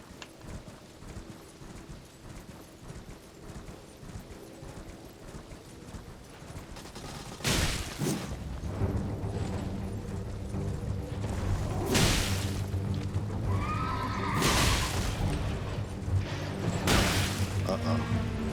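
Horse hooves clip-clopping at a gallop in the Elden Ring video game, a steady rhythmic patter under game music and combat whooshes and booms, with a voice talking over it.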